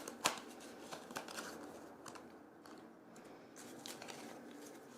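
Oracle cards are shuffled by hand in a quiet room, a soft continuous riffling and sliding of card stock with a few crisp taps and snaps, close and fairly faint.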